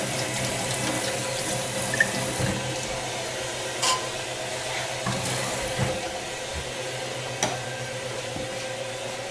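Tap water runs into a sink while items are being washed, a steady close splashing stream with faint clinks of objects handled under it, no voices.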